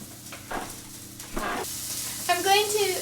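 Butter sizzles in a hot pan as short frying bursts and a rising crackle, with a faint clatter of utensils and a brief tonal squeal near the end.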